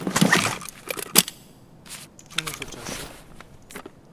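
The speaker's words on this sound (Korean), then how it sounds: "누군가 살짝 살짝 걷는 소리가 나" Soft, careful footsteps in the game Escape from Tarkov, a few light scuffing steps spread across a quiet room, faint and intermittent, with players talking over them.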